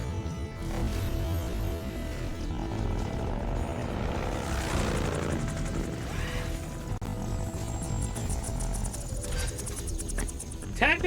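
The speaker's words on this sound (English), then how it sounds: "Hind D. What's a Russian gunship doing out here?" A Hind D Russian gunship helicopter in Metal Gear Solid 3 drones with a steady rotor and engine roar under game sounds, continuous throughout with no clear speech.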